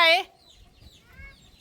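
A chicken gives a single short, loud cluck up close at the start, followed by faint background noise and a quieter murmur.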